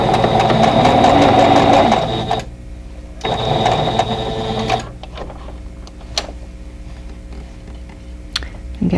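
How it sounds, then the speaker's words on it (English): A sewing machine stitches quilt block pieces together with a quarter-inch seam, running loud and fast in two close bursts of whirring needle chatter, then stopping for faint clicks and handling noises. "we're going to sew these together with a 1/4 inch seam allowance"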